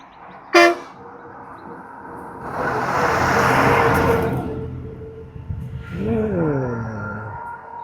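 One short, sharp bus horn blast in Meghamalai, followed by the bus's large engine rumbling louder and then easing off, with a brief tonal sweep near the end.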